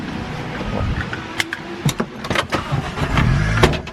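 A Toyota Starlet's standard 4EFE engine running on a 35 shot of nitrous, revving with sharp bursts and a rising, sustained roar toward the end, close up and loud.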